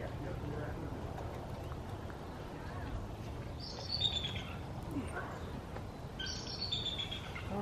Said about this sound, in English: Oh, you hear the eagle?